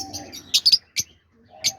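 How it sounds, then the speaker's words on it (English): Fischer's lovebirds in an aviary giving a few sharp chirps and short squeaky calls, close and brief, with quiet gaps between the bursts. "These are all the Fincher lovebirds."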